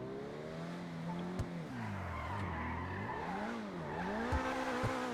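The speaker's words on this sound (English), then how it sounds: "it'll just spin its tires and take off" A Coquette D10 sports car in GTA Online spins its tires on launch, with a continuous loud squeal of rubber sweeping up and down in pitch over a revving engine, close and sustained.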